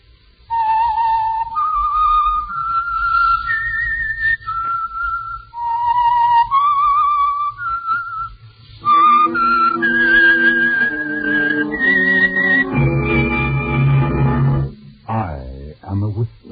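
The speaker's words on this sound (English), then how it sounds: "the signal to listen for is this whistle that identifies the Signal Oil program" A melodic whistled tune, the signature of the radio program The Whistler, rises and falls alone at first, then orchestral music joins in and swells beneath it.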